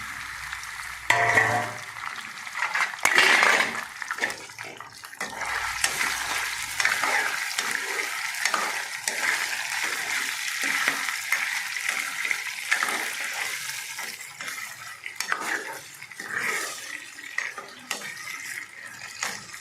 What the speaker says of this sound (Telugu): ఇప్పుడు మనం ఈ ఆయిల్లో డీప్ ఫ్రై చేయాలి.